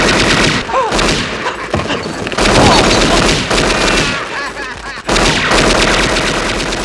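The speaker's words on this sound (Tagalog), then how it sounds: "nakarinig siya ng putok ng baril" Loud film gunfire fills the scene, rapid bursts of shots and fusillades with booming impacts, mixed with brief shouted voices and dramatic movie sound effects throughout.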